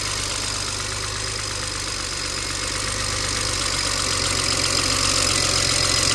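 A 2007 BMW 335xi engine idles steadily with all six injectors firing, a constant close mechanical hum and whir holding even from start to finish with no talk.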